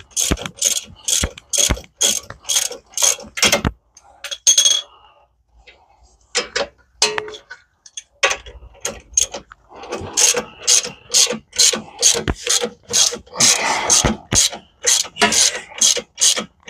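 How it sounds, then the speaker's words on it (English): A breaker bar ratchets on the front strut bolts of a 2008 Toyota Highlander, giving sharp, rapid clicking runs in several bursts separated by quiet gaps, close and clear. "I love my breaker bar."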